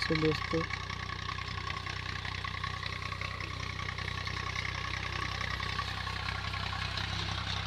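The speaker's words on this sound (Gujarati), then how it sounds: "ટ્રેક્ટર કપાસ ઉખેડે છે" A tractor uprooting cotton plants in a field drones steadily throughout, a constant low rumble with mechanical clatter, close by and fairly loud.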